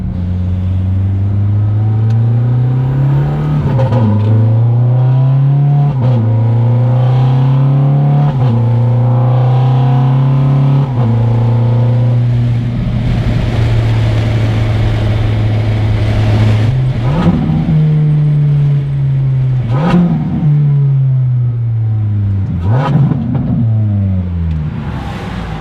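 A Ferrari F430 engine with a smoking fault revs up and down while driving, its loud, steady drone climbing and falling in repeated waves, dropping near the middle before rising again.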